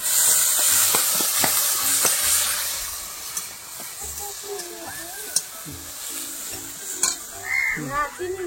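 Chicken curry being stirred and fried in a pan in a Bengali home kitchen, with sizzling and the scrape of stirring running throughout while people talk intermittently nearby.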